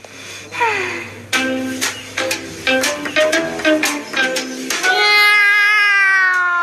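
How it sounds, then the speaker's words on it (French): A cartoon cat meows repeatedly in short, loud, close cries, ending in a long drawn-out wail, with no talk. "Ouais, c'est ça, miaule toujours."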